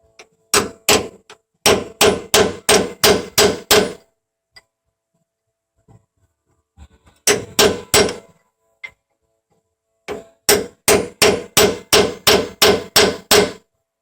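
Hammer striking a dull chisel while working on a truck vibration repair: three sharp, rhythmic volleys of close metallic blows, each series about six to eight hits, separated by quiet pauses.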